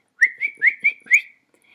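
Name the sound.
a boy whistling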